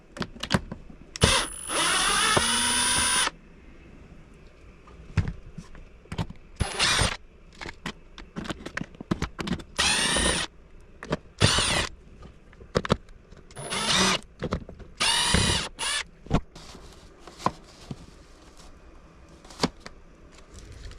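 Power drill backing Phillips screws out of a 72V 19.2Ah lithium battery pack case, heard as repeated short whirring bursts with brief pauses between them, close and fairly loud.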